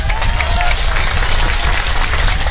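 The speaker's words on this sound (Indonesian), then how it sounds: "Urung-urung kok tepuk tangan" A crowd at an Islamic New Year sermon in Banyuwangi claps steadily throughout, a dense, continuous patter of many hands carrying through the hall.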